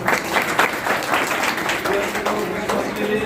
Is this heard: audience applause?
yes